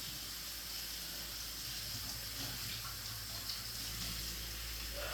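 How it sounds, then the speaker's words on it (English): Steady rush of tap water running over peeled yellow yams being washed in a sink, a continuous broadband hiss with a low hum underneath, close and even throughout with no talking. "So I'm just going to wash them very quickly."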